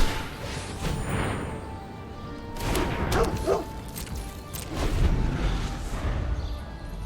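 A dog barks a few times from a digital card in MTG Arena, short yips rising over background game music and clicks.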